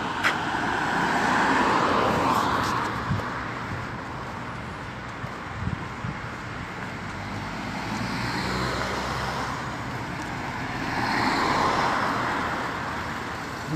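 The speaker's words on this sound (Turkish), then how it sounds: "burada trafik yine sıkışmış" Steady roar of congested city-street traffic in Karamürsel, Turkey: a continuous wash of car engines and tyres, with a couple of louder vehicles swelling past and some wind rumble throughout.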